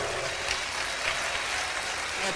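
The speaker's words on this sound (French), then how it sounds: "qu'on peut applaudir très fort" Dense, even applause fills a ceremony hall as an audience cheers the Senate president at a congress closing ceremony, a steady wash of clapping without pauses.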